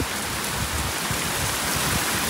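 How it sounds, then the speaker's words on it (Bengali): Heavy rain pours steadily during a thunderstorm, a dense, loud, unbroken hiss of water striking surfaces, with no voices. "এত বৃষ্টি হচ্ছে যে ধোয়া ধোয়া হয়ে গেছে"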